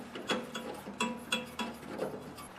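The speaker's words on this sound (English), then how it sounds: "You're going to need to take off this 7/16 bolt here that holds the muffler cover." A ratchet wrench loosens the 7/16 bolt holding the muffler cover on a 5 hp Briggs engine, with repeated close ratcheting clicks in short regular bursts and no one talking.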